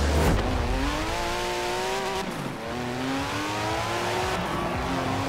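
Engine of an off-road mini buggy racing in Forza Horizon 4, a near, continuous revving whine that climbs through repeated gear shifts, with tire noise underneath.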